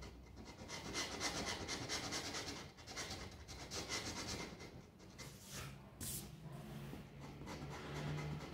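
A rubber eraser rubs out pencil marks on a wooden cabinet front, a soft, close, continuous scrubbing and rasping that comes in back-and-forth strokes with short pauses.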